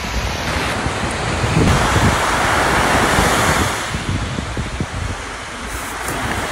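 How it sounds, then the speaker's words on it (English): Ocean waves break and wash up on a windy beach on Waiheke Island, a steady loud roar of surf with gusts of wind buffeting the microphone and no voices. "let's take a stroll at the beach and listen to the sound of the waves"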